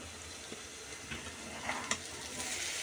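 Cauliflower stems and potato frying in a pan, a continuous soft sizzle with a few faint clicks, close and steady, no voices.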